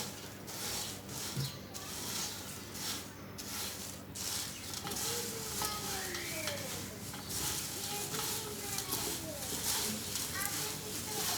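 Poha chivda is stirred in a pan with its fried ingredients, giving a busy, continuous scraping sizzle, while bird chirps come from the background.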